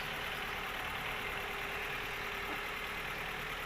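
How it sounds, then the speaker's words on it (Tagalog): A used car's engine idles steadily and quietly at a used-car lot, a smooth, even hum with no revving, heard alone for several seconds. "Tahimik na makina, ano?"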